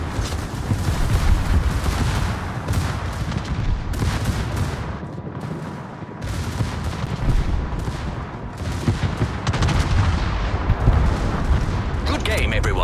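Naval artillery fire in a video game, a dense, continuous barrage of booming gun blasts and explosions with heavy low rumble, loud and sustained throughout, with voice chatter faintly underneath.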